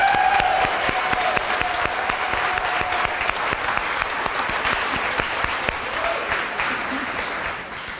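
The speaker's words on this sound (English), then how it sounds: "Applause now." An audience at a Sunday celebration gives sustained applause for volunteers, many hands clapping in a steady crackling wash that tapers off gradually, with a few faint voices beneath.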